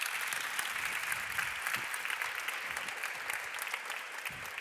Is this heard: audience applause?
yes